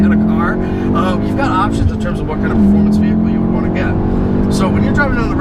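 A 2017 VW Golf R with a 6-speed manual drives fast down a road, a loud steady engine drone with road roar from inside the cabin, while someone talks over it throughout.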